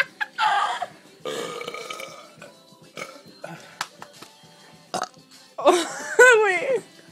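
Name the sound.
loud burp in a belching contest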